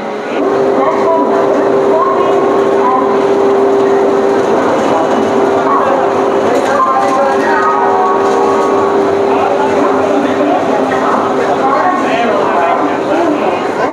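The 12331 Himgiri Express passenger train (Howrah to Jasidih) runs with a loud, continuous rolling rumble and rattle from on board, with people's voices mixed into the noise.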